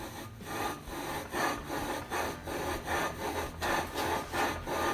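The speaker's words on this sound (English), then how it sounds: "this is gonna do is gonna remove all the burrs and stuff. It's gonna help us seat the flywheel" Hand filing or sanding to deburr metal before seating a flywheel on a Predator small engine build, heard as steady rhythmic back-and-forth rasping strokes, about nine to ten in five seconds, close and alone.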